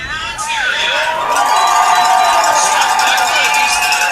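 An Ontario crowd cheering at a women's U18 football game, a loud sustained roar with high-pitched shouts and cowbell-like clanks, rising and holding steady.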